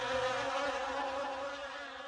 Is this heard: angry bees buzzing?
yes